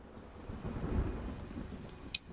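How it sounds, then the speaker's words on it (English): Rain falls in the video game Nightingale as a steady wash with a low rolling rumble of thunder swelling midway, then a short sharp tap near the end. "Unfortunately, it's raining, which absolutely kills you in this game."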